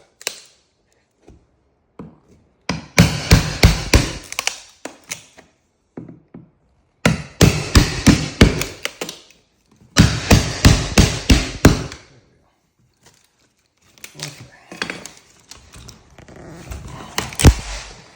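Loud bursts of rapid hammer-and-chisel strikes chip out a damaged hardwood floor board, coming in several rhythmic flurries separated by short pauses, close and sharp.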